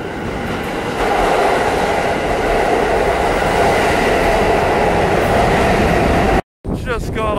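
A New York City subway train roars loudly along the track with a steady rumble and rattle, then the sound cuts out briefly before resuming.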